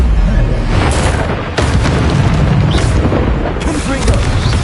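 Hogwarts Legacy Incendio fire spell casts as loud, dense whooshing blasts of flame with booming bursts and crackle, near and continuous.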